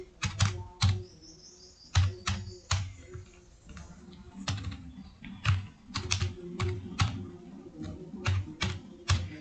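Someone types on a computer keyboard while writing HTML code, producing clusters of fast, close key clicks in irregular bursts with brief pauses between them.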